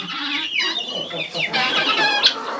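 Chickens cluck busily and close up while pecking at a meal of potatoes with pork fat, giving a dense, overlapping chatter of short clucks and squawks with no one talking.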